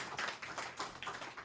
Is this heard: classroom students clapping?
yes